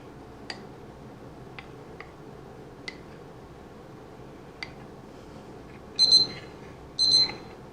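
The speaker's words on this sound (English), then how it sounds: "That beeper tells me we have 10 minutes left on the rice" A kitchen timer counts down while rice cooks, giving two short bright electronic beep bursts about a second apart after several faint ticks and light kitchen clicks in a quiet room.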